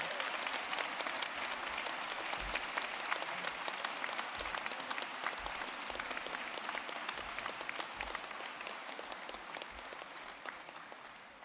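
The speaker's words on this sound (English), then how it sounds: "if we could have a huge round of applause for all our newly qualified tradespeople" Sustained applause from a large audience at an apprentice awards presentation ceremony honouring newly qualified tradespeople, steady and dense throughout with no voices over it.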